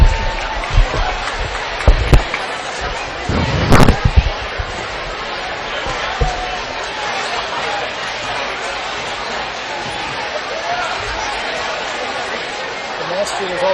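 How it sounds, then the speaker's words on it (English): Crowd noise at a high school boys' basketball game, a steady murmur of chatter from the stands with a few sharp thuds and bursts standing out early on. "crowd noise."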